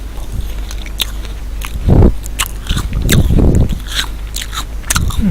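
Crisp bites into an apple in a video game, several crunchy chomps with chewing between them, fairly loud over a steady low background hum.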